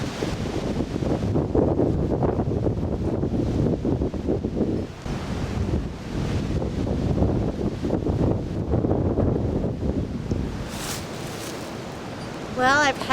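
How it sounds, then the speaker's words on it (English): Strong Alaska wind blows steadily and loudly against the microphone, a continuous roaring rush with gusts, outdoors beside a portable pop-up greenhouse. "We get some tremendous winds here."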